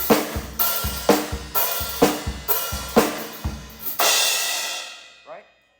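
Drums play a song's intro at a slowed practice tempo, with evenly spaced kick and snare hits and crashing cymbals, ending in a ringing crash that fades out.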